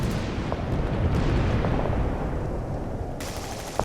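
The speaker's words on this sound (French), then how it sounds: "Les premiers tirs se font entendre." Gunfire in a WWII battle scene, a dense rumbling barrage of shots and blasts, loud and continuous with heavy low booms throughout.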